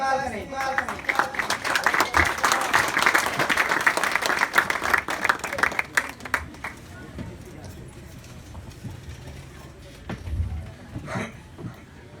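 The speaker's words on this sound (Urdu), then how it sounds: "تمام افراد کھڑے ہو کر اپنی تالیوں کی گونج میں ان کا استقبال کریں." An audience at a speech gathering in Khadimabad stands and applauds a speaker, dense clapping loud for about six seconds and then thinning into scattered claps, with some voices mixed in.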